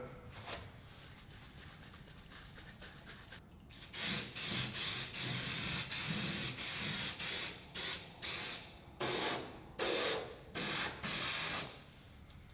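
Quiet at first, then a run of short, close spray bursts of rust converter from a trigger bottle on a BMW 2002 Touring's sills, a hiss with each squeeze in an uneven rhythm.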